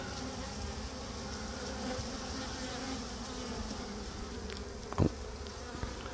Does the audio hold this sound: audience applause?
no